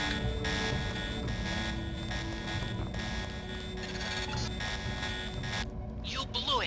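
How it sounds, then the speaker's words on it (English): A continuous electronic alarm buzzer in the video game Deus Ex drones steadily and loudly for several seconds with pulsing tones, then cuts off near the end. "The alarm just closed the north door."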